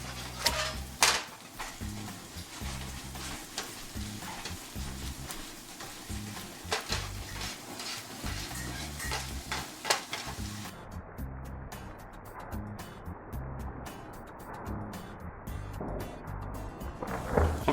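Garlic and onion frying in butter and being stirred: a steady soft sizzle with occasional scraping and clinks from the pan, heard up close.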